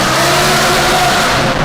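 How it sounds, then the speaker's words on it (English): An Audi R8 with a 5.2 liter V10 and an F1 catback exhaust revs with a loud, close, sustained engine roar throughout. "This might be the world's best sounding Audi R8. We're gonna let you be the judge of that."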